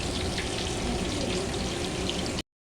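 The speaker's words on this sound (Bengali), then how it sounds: "আমাদের আলু ভাজা চলছে। আমাদের এখানটায় ইলিশ মাছ ভাজা হচ্ছে" Potatoes and hilsa fish frying in hot oil for a festival cooking spread, a continuous close, dense sizzle with bubbling crackle throughout before cutting off abruptly near the end.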